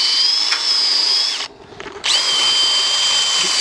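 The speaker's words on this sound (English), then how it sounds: "here we're drilling out the old liner to make essentially a gap in it" A power drill whines loudly and close while drilling out an old bullwheel liner, running steadily, cutting out for about half a second, then starting up again at a high pitch.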